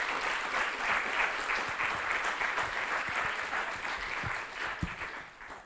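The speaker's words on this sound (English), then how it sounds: "Can you please give them a round of applause?" A conference audience at a research networking event applauds a university student esports team, with sustained, moderately loud clapping over several seconds and a few distinct individual claps near the end.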